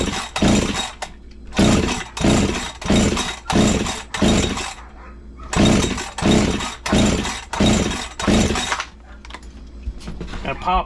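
Husqvarna 365 chainsaw with ported, hugged-out transfer ports being pull-started for a compression test: two runs of rapid, rhythmic rope pulls, each a loud chugging swish, close up with a pause between sets.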